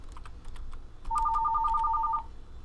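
A telephone rings during a break in a Minecraft modded Sky Adventures session: a clear, close electronic ring of about ten rapid pulses lasting roughly a second, alone without talk, following faint keyboard clicks.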